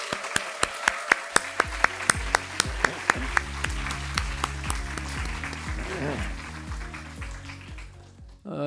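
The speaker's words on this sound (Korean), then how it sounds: "우리 격려하는 뜻에서 다 같이 한번 박수 한번 칩시다." Applause at a closing ceremony for a climate and environment leaders training course, brisk rhythmic clapping mixed with a crowd's claps, while music with a steady beat plays underneath and swells as the clapping thins out.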